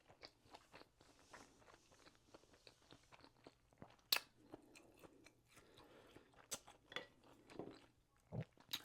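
Someone eats a tuna sushi roll with imitation crab, cucumber and avocado, making quiet close chewing and soft crunches in an irregular rhythm, with occasional sharper clicks.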